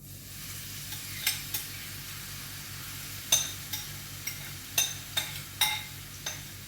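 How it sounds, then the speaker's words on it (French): Courgettes sautéing in a frying pan give a soft, steady sizzle, broken by a few sharp clinks and scrapes of stirring against the pan at irregular intervals. No voices are heard. "je fais revenir ça dans ma poêle jusqu'à temps que mes courgettes aient rendu"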